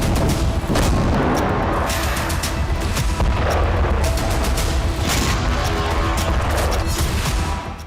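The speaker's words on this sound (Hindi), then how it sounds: "टोर्नाडो MLRS से भी प्रहार होता रहा" Russian Tornado multiple rocket launcher strikes on Kharkiv produce a dense, continuous barrage of loud booms and rumbling blasts, overlapping with crackling bursts throughout with no pause.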